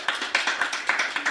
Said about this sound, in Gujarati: નિરંજન અંતાણી માટે એક તાળીનો એવોર્ડ તો બને.